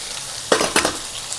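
Quiet background, then a sudden burst of crackling sizzle as white spring onion bulb drops into hot tempering oil, followed by a second sharp sizzling burst.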